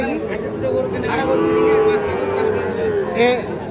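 A crossbred bull calf at a cattle market lets out a long, drawn-out moo at moderate distance, while crowd chatter and nearby voices continue beneath it.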